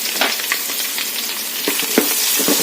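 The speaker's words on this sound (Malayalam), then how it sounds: "അതിലേക്ക് നമുക്ക് ഇഞ്ചി കുരുമുളക് വെളുത്തുള്ളി പേസ്റ്റ് ഇട്ട് പച്ചമണം മാറുന്നിടം വരെ ഇളക്കി കൊടുക്കാം" Ginger, pepper and garlic paste fries in a pan and is stirred, a loud, close, continuous sizzle with scraping stir strokes breaking through, and no talking.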